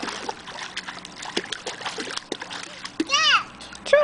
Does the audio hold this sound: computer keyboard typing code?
no